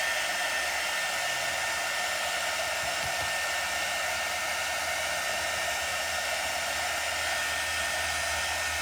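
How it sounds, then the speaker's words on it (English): A hair dryer blows steadily and loudly over chalk paste on Halloween decor, giving a constant whooshing roar with no break from start to finish. "So I'm drying this paste."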